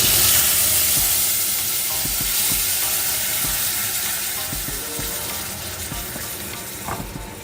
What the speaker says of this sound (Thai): ใส่กระเทียมลงไปนิดนึง